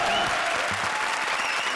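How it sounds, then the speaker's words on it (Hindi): Brief burst of loud studio-audience applause on an Indian television comedy show, dense clapping with a faint voice or cheer buried in the crowd noise. "जोरदार तालियां।"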